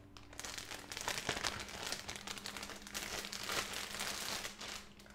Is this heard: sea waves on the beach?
no